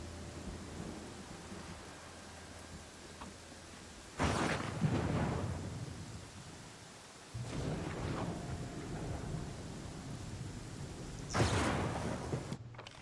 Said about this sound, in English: What is this lightning? Seriously.